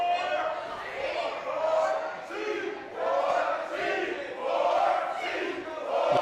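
A wrestling crowd cheers and chants in rhythmic swells behind the duo C4, voices rising and falling in repeated waves, moderately distant.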